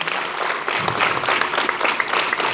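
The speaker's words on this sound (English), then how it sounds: "clap hands." A group claps hands together on command during an exercise drill, a crowd-like burst of overlapping claps at moderate loudness, with no talking over it.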